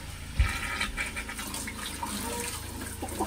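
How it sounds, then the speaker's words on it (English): A 12-volt water pump switched on for the first time in a Ram ProMaster van build, with a brief thump, then a steady running hum and water splashing and rushing continuously at close range. "I'm literally going to turn this water pump on for the first time."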